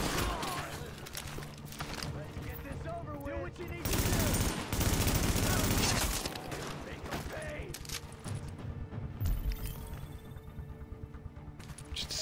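Rapid gunfire in The Division shooter game, bursts of shots crackling over game ambience and mechanical noise, loudest in a sustained volley midway, with a voice talking at times.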